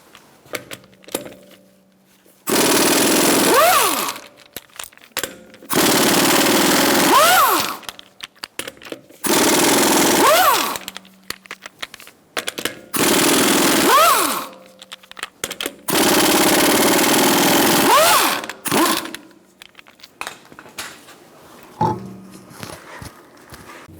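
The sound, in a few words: removing Ford Focus wheel with 19mm socket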